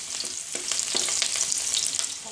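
Sliced onion frying in hot oil gives a steady, close sizzle with soft crackles and a few stirring scrapes, without any voices.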